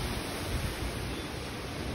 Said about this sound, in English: this time the rain has picked up even more and it's starting to get windy